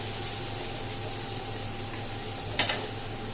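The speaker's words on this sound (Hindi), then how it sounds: "तो फ्रेंड प्याज भून गई है" Sliced onion fries in an open pan for a stuffed parwal dish, giving a steady soft sizzle throughout, with a brief clatter of a spoon near the end.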